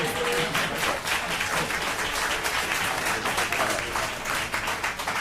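Audience members clap at a public meeting on Confederate monument removal, a sustained, fairly loud round of dense applause that keeps a steady level for several seconds.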